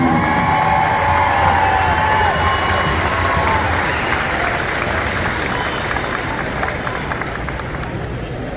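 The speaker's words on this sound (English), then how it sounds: "Let's give her a big round of applause" A large crowd at the Miss Indian World pageant during the Gathering of Nations powwow roars with applause and cheering for the winner, loud and dense, with whistles near the start before the noise slowly eases.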